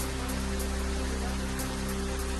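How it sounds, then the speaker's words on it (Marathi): Heavy monsoon rain pours down around Malhar in Baglan taluka, Nashik, a steady, dense hiss with no breaks, carrying a low constant hum beneath it. "नाशिकच्या बागलाण तालुक्यातील मल्हेरसह परिसरामध्ये मुसळधार पाऊस."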